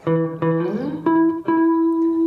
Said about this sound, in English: That's the sound of the octave.